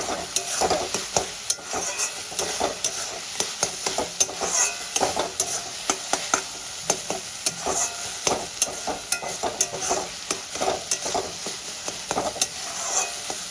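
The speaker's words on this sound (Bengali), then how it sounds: "মশলাটা খুব ভালো করে কষাতে হবে।" Pav bhaji masala with turmeric and a little red chilli powder sautéed in a pan for dhaba-style pav bhaji, with a constant sizzle broken by rhythmic spatula strokes and scrapes, close and alone.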